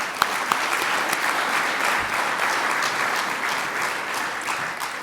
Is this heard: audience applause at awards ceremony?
yes